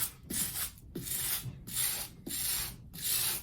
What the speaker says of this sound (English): gentle, one-way motion, strokes from the brush will do you good